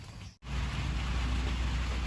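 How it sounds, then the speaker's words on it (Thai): Steady rain falling outdoors on a rural Thai homestead, a dense even hiss with a brief dropout near the start, then continuing at moderate level with no talk. "ฝนตกดินๆไป เข้าร่มดีกว่า"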